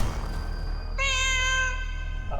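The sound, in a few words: cat meowing, supposedly a lighthouse ghost cat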